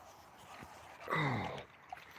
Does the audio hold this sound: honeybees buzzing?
no